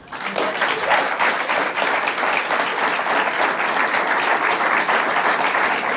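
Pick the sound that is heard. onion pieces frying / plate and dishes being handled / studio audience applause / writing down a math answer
studio audience applause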